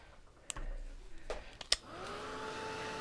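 A hair dryer drying a watercolour painting of a crocus switches on after a few clicks and taps, then blows with a steady close whoosh and a rising whine.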